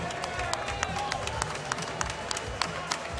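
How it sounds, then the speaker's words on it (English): Crowd applause after a professional mixed martial arts bout at a fight night, a sustained wash of clapping and cheering with sharp individual claps, heard under an announcer talking. "let's give them a round of applause"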